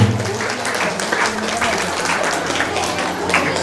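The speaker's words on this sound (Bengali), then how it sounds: "আমরা সবাই একটু জোরে করতালি দেব" An audience applauding to welcome guests at a school event in Tangail, dense steady clapping from a crowd throughout, with a voice over a loudspeaker mixed in.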